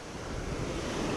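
Ocean surf rolling onto a beach beside a rip current, a steady broadband wash of breaking waves with wind buffeting the microphone, continuous and fairly quiet with no voices.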